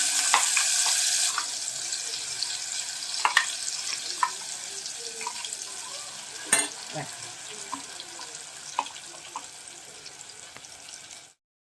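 Green masala paste for prawns goes into a hot pan with curry leaves and fenugreek, giving a steady moderate sizzle with scattered stirring clicks and scrapes, louder at first and easing off, no talk over it.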